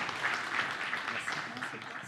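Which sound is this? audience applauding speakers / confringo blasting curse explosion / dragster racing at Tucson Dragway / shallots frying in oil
audience applauding speakers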